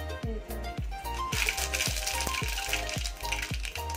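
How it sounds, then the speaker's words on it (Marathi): Mustard seeds sizzle in hot oil in a pot for dal tadka, a steady hiss punctuated by rapid, regular popping and crackling, close up with no talking. "आता आपण मोहरी टाकून घेऊया"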